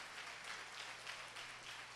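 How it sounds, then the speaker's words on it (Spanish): A congregation at a Spanish-language family church service gives the Lord Jesus a round of applause, heard as a faint, even wash of many hands clapping without distinct individual claps. "Dale un aplauso fuerte al Señor Jesús."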